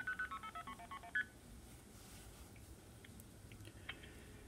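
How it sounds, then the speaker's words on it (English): Rapid sequence of about eight DTMF touch-tone beeps from a landline telephone keypad, evenly spaced and clear, followed by quiet line hiss with faint clicks. "And it'll dial."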